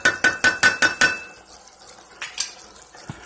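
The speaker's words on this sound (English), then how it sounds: "So you just want to stir everything in." A spoon stirs cold rice, spices and cold water together in a pot, opening with six quick, evenly spaced metallic clinks, then a pause and two or three more scattered taps, close and clear with no talk.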